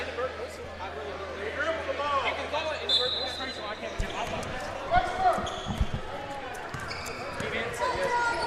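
Basketball dribbled on an indoor court during a boys' high school game against Ripley, a series of sharp bounces over crowd hubbub and a nearby commentator's voice.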